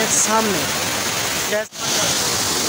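Waterfall near Murree and Kohala giving a steady broadband rush of falling water, close and continuous, briefly interrupted near the end, with voices speaking over it.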